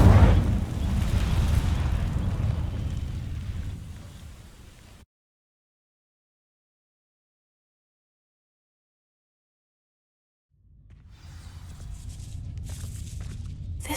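An Incendio fire spell setting dry vines alight in Hogwarts Legacy, a loud booming burst that rumbles and fades into silence, followed by a low crackling rumble rising again.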